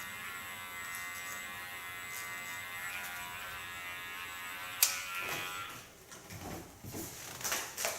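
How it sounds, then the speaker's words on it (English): An electric hair clipper buzzes steadily and close up while it shaves tattoo-style lines into the short hair of a side shave. After about five seconds a sharp click breaks the hum into uneven, stuttering passes. "so now I can make new tattoo lines in it."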